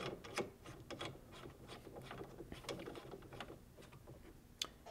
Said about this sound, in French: tu viens mettre ton microphone. Comme ça, on visse.